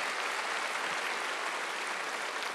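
Steady, dense applause from a church congregation at a Sunday worship service, continuous and fairly loud throughout with no break.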